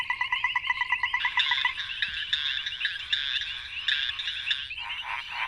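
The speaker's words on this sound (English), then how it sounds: "frogs vocalize to call for mates" Several frogs call for mates in a steady, pulsing chorus of rapid croaks and trills, close and fairly loud, with no voices over them.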